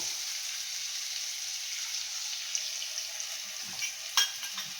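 Steady, crackling sizzle of spice paste frying in a pan for fish curry, close by, with a few soft stirring clinks near the end.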